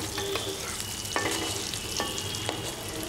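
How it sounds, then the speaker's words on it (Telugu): Eggs fry in oil in a kadai with a steady sizzle, broken by a few sharp clinks of a stirring spoon against the pan. "గుడ్లను ఈ విధంగా ముందుగా ఫ్రై చేసుకొని ఒక గిన్నెలో తీసి పెట్టుకోవాలి"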